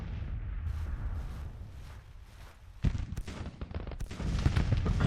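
Civil War battle gunfire in the strategy game Grand Tactician: The Civil War, with rumbling volleys and heavy booming shots that break out in sudden loud bursts over a continuous low battle din.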